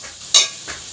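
Masala frying in a pan, one sharp sizzling burst followed by a fainter second hiss, close and brief with no talking.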